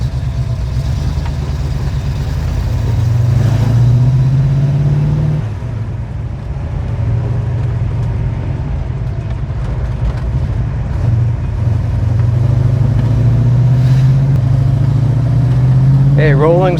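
A 1969 Pontiac GTO with a Tremec TKX manual gearbox accelerating through its gears, with a loud, steady engine drone that climbs and drops at each shift, while someone talks over it.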